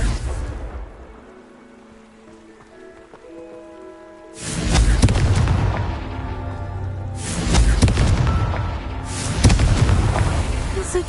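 A Confringo blasting spell fires in a Hogwarts video game, three heavy booming explosions with rumbling tails arriving a few seconds apart, loud and close, following a quieter stretch.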